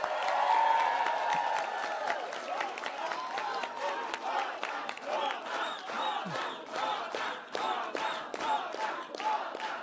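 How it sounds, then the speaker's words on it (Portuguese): A large crowd applauds and cheers loudly and continuously, with dense clapping and shouts filling the space. "quero uma salva de palmas para o presidente Hugo Mota."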